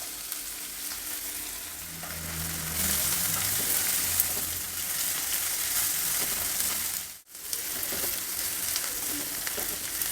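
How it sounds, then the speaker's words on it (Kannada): Onion and green peas frying in a pan, a continuous crackling sizzle with some stirring scrapes, steady and close, with a short gap near the end. "ಈರುಳ್ಳಿ ಬಟಾಣಿ ಎಲ್ಲ ಚೆನ್ನಾಗಿ ಫ್ರೈ ಆಗಿದೆ"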